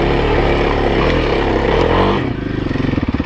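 A Kawasaki KLX 351 dual sport motorcycle climbs over rocks off-road in first gear, its engine loud and close with a churning growl that eases into a slow, rhythmic low putter near the end.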